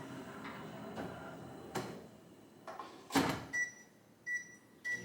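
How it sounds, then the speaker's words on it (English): A microwave oven heating chocolate chips, peanut butter and soy milk: a quiet background hum, scattered clicks and door-like thuds, then several short electronic beeps near the end. "All you do is put this into your microwave for 30 seconds."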